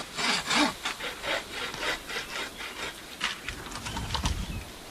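A bow saw cuts through a small tree in snowy woods, strokes rasping back and forth in a vigorous, uneven rhythm, close and fairly loud with no voices.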